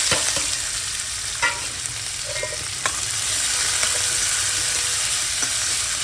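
Onions frying in a pan with cumin and asafoetida for chicken biryani, a steady sizzling hiss with occasional clinks and scrapes of a spoon stirring, no talking.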